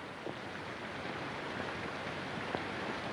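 Rain falling outside in a 1940s film-noir scene, a soft continuous hiss with scattered drop ticks, fairly faint and steady with no speech.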